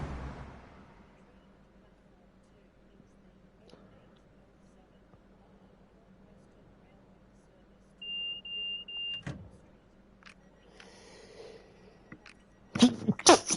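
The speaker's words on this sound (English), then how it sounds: "Oh, excuse me, I sneezed." A single sharp sneeze bursts out near the end after a long stretch of quiet car-cab hum, with a short whirring mechanical sound a few seconds earlier.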